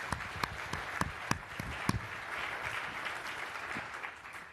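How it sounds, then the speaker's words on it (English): Conference audience applauds its sponsors in a large hall, a steady wash of many hands with a few sharper claps standing out near the start, moderately loud and sustained throughout. "So let's really give them a big round of applause as well."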